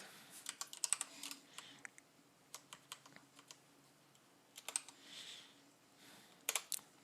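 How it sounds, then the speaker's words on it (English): Quiet typing on a computer keyboard, with irregular bursts of soft key clicks and short pauses between runs, close to the microphone and with no talking. "If I can type everything correctly."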